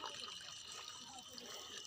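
Water gushes from a village hand pump as the handle is pushed down, a steady, faint rushing stream with no breaks.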